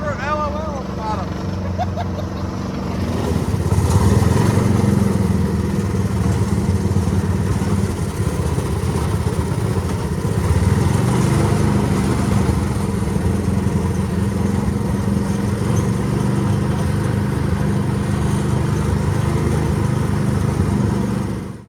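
A 1970s Coot off-road ATV engine drives steadily through hill climbs, a continuous loud droning roar that holds for the whole stretch, with voices talking over it.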